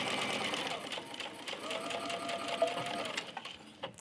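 A sewing machine stitches the hem of a fabric garden knee pad cover near its handles, a steady close mechanical whir running continuously with slight changes in speed and a faint voice beneath it.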